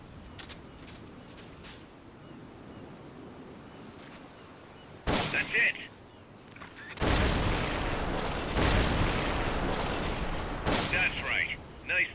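Bursts of gunfire while shooting targets in Metal Gear: Peace Walker, a quiet opening with faint clicks, then loud rapid volleys from about five seconds on, dense and sustained with short gaps.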